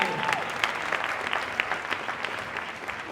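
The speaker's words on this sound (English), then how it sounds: "Let's give her a round of applause" Crowd at a Friday night movement-building event claps in a round of applause, a lively burst of many hands with scattered sharper claps standing out, steady for the whole short stretch.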